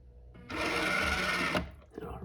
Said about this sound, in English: this diagnostic, and it'll rotate the droid's head